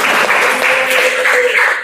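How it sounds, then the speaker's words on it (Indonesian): A high-school class gives a short, brisk burst of clapping, close and loud, with a few voices mixed in. "Ya, tepuk tangan dulu untuk"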